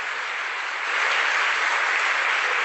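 A church congregation claps and applauds during a Passion service, a dense, steady wash of hands that swells slightly louder after the first second and continues evenly, with no talking over it.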